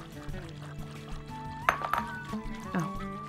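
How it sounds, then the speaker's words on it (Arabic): Cold water pours into dissolved strawberry jelly in a kitchen, a soft liquid splash with a few light clinks, faint and partly under a person talking. "وبعد كده بزود بقى كوبايه ونص من الميه البارده عشان اقدر اشتغل بيه على طول"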